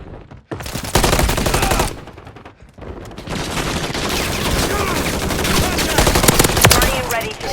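Rapid automatic gunfire rattles in Modern Warfare III, loud sustained bursts with brief gaps, layered with battlefield noise and radio voices speaking in the background.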